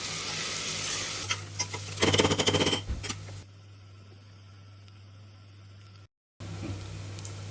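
Onion sautéing in oil over raised heat for a mutton dish, with loud, close sizzling and scraping stirs at first, then a much quieter steady hiss and a brief silent gap.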